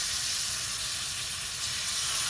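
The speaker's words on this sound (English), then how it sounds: "Now that the oil is medium hot, let's start frying these chicken pieces." Chicken pieces frying in medium-hot oil give off a steady, loud hiss and sizzle that holds unbroken throughout, with no talking.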